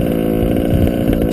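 Small two-stroke engine fitted with an OBR 1242 carburetor made by Walbro, running steadily with a loud buzzing drone and slight wavering in pitch, no voices.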